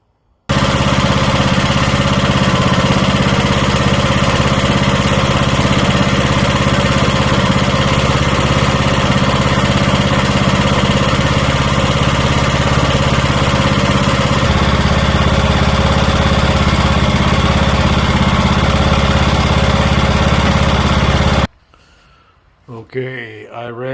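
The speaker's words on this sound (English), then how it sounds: "Okay, I ran the motor" A John Deere E100 lawn tractor engine runs loud and steady at close range for about twenty seconds, then cuts off abruptly, leaving quiet handling noises.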